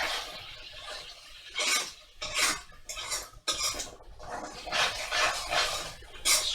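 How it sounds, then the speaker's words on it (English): Madras curry base being stirred at the sides of a hot pan, with a utensil scraping and clinking against the metal in repeated close bursts of rasping, sizzling noise. "stir that at the sides"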